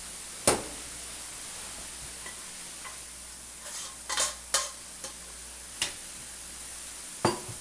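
Tofu and leftover marinade stirred in a pan with vegetables, a faint steady sizzle broken by a few sharp scraping and clinking utensil strokes spaced irregularly.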